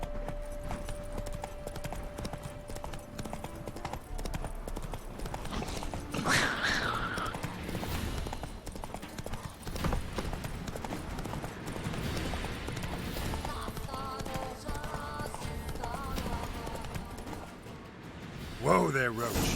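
Roach the horse trotting in The Witcher 3, steady clip-clop of hooves under game ambience and music, with a voice briefly speaking and a louder thump near the end.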